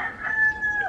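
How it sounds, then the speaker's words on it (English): A rooster crows once, a drawn-out high call sustained for about a second, moderately near with faint background noise. "keep count of the amount of times that rooster crows"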